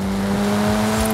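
A car drives in a video game, its engine holding a steady, loud droning hum at a constant pitch, close and continuous over a brief stretch.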